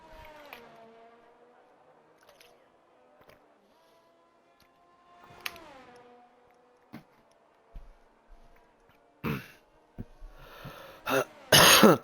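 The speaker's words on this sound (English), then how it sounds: "Clearing my throat before we get into it here." A man clears his throat a few times during a racing broadcast, with rough bursts near the mic, the last ones louder and harsher, over a faint steady engine hum.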